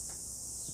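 Cicadas buzz in a high, continuous drone outdoors in New Zealand, steady and fairly faint in a very brief moment, with no clear birdcall standing out.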